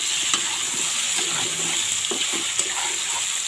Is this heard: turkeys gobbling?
no